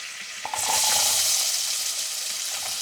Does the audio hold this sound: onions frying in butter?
yes